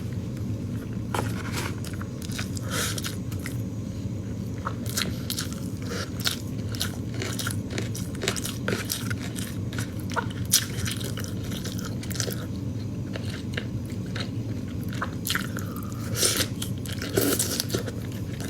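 Someone chews and eats tofu close up, with repeated soft biting and crunching clicks over a steady low background hum, no talking.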